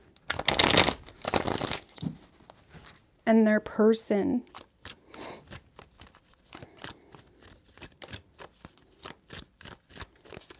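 Tarot cards are riffled and shuffled in several short, crisp bursts of rapid flutter, with softer card handling and taps scattered between. A person speaks briefly in the middle.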